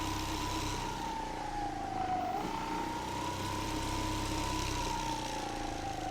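An Angwatt T1 3.0 electric scooter with a speed-limiter kit runs on a test ride, its motor whining at a steady pitch that dips briefly and rises again over continuous wind and road rumble, close and constant.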